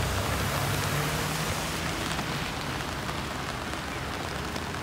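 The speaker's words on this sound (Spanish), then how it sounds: "Me quedé dormido y encima está lloviendo." Steady rain falls on a cold, wet day in Akihabara, Japan: a dense, even hiss of drops on surfaces that stays loud and unbroken throughout, with no voices.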